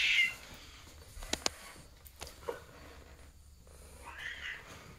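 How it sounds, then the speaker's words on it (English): Two sharp, high-pitched cat meows close by, followed later by a softer short meow, with quiet room noise in between. "her meow is very shrill"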